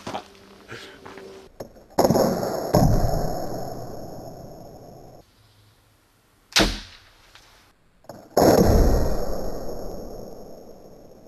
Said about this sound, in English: I shoot it into the broadside of my barn